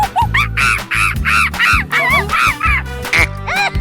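Repeated cartoon duck quacks from a little duck, about eight nasal calls in quick, uneven bursts, loud and close with no talking over them.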